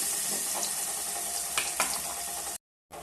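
Pieces of ripe plantain sizzling in hot melted ghee in a pan, a loud continuous frying hiss with a few brief stirring scrapes, then a sudden cut to silence before the sizzle returns.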